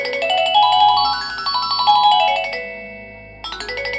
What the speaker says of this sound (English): This is ringtone with lights.